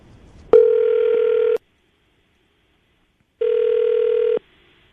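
Two long electronic phone rings separated by a pause of silence, loud and close, like an outgoing call ringing through the line.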